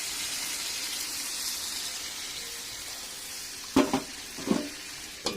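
Mutton curry sizzling in a pan as a small splash of water from rinsing the spice bowl goes in: a steady hiss, then a few short bubbling splashes and clinks near the end.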